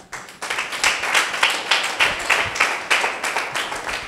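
A church audience claps in a rhythmic series of sharp, fairly close claps that pulse steadily for several seconds, with no other voices or sounds over them.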